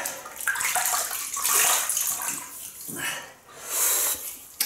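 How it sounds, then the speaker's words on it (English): Water splashes close by as hands scoop it onto the face before a wet shave, in several uneven bursts of splashing and dripping with short pauses between them. "I'm just gonna wet the face."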